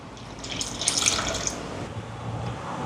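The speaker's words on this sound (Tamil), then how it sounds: "இதோட தேங்காய் பால் சேர்க்குறேன் இது வந்து ரெண்டாம் பால் மூன்றாம் பால்" Coconut milk is poured into a pan of fish curry, a brief close liquid splash and trickle lasting a couple of seconds, with no talking.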